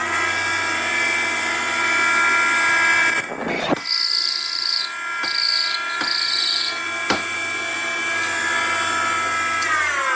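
A Henderson precision trimmer cutting 30-30 rifle brass cases gives a steady, high motorized whine with a brief dip where the cutter engages, followed by short clicks and a continuing hum, close and fairly loud.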